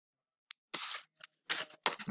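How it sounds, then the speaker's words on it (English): Scissors cut through paper for a popsicle-stick butterfly craft, giving several short, close, crisp snipping bursts with brief pauses between them and no talking. "Take our scissors."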